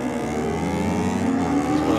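A low drag-racing motorcycle revs and roars at a dragway bike night, a loud continuous engine note with rising intensity over the brief stretch.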